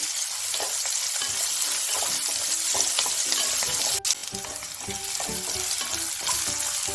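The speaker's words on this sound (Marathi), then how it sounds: "कांदे थोडे फ्राय झाले की लगेच यामध्ये आपल्याला लसूण आणि अद्रक टाकून घ्यायचं आहे" Onions frying with garlic and ginger in a pan for dhaba-style dum aloo: a steady, loud, close sizzle with light stirring clicks throughout and no voices.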